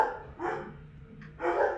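Several dogs bark indoors in a few sharp bursts at moderate distance, no talking over them.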